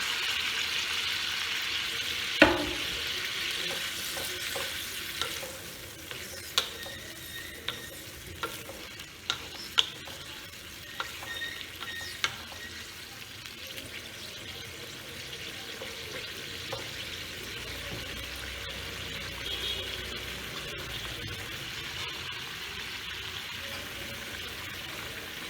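Beans and potato curry fries in a pan with turmeric while water is added, giving a steady soft sizzle with scattered sharp clicks and scrapes of stirring, close up and with no talk.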